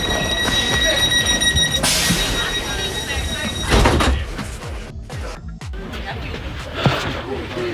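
A London train pulling into a station with squealing wheels and rumbling carriages, then door sounds and platform clatter, loud and close amid street and crowd noise, with people talking nearby.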